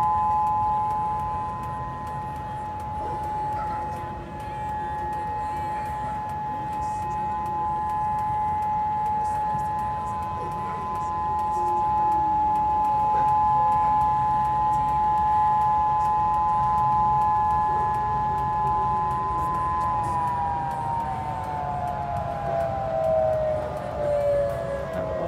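An outdoor siren wails as a long, steady tone that holds for about twenty seconds before sliding downward and winding down, heard from a distance alone without speech.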